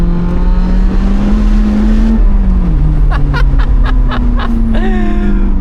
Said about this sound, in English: Okay, car coming.